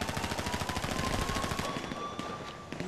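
Rapid automatic gunfire from a GTA 5 Online prison break heist, a dense continuous burst of loud overlapping shots that thins out toward the end.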